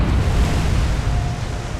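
A loud, rumbling explosion in a naval warfare video game, a deep sustained blast that fills the whole clip, close and heavy with no talk over it.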